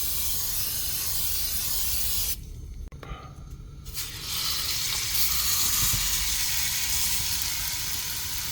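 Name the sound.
vegetable oil spray sizzling in hot pan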